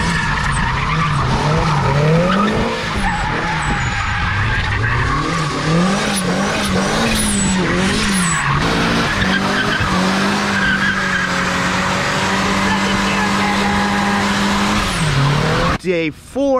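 A Mazda Miata with a street tune drifts, tires squealing loudly and continuously while the engine revs and wavers close by, with a brief break near the end.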